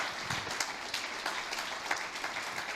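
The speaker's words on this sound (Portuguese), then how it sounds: "Dê um aplauso a Jesus Cristo," A church congregation applauds steadily, a close, dense wash of clapping lasting a few seconds with no distinct voices.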